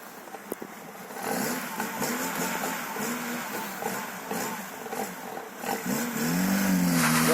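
A car engine revs and strains in steady rising and falling bursts, loud and close, with a climbing pitch near the end.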